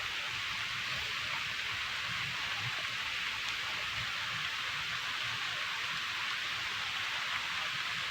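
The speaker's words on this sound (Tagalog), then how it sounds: "Grabe, umuulan na, guys" Steady broadband rain falling outdoors during a fishing trip for tilapia, a constant hiss with no gaps, fairly close and even throughout.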